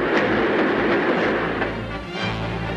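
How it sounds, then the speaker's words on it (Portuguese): A train rumbles steadily past at close range, a loud, continuous roar of rolling wagons with faint rail clatter throughout. "O trem vem vindo."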